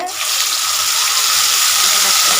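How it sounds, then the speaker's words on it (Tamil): Mustard seeds and curry leaves sizzle loudly in sesame oil, giving a dense, steady hiss that holds close and bright through the whole stretch, with no talk over it. "கடுகு பொரிஞ்ச பின்னாடி கருவேப்பிலை கொஞ்சம் போட்டுக்கலாம்."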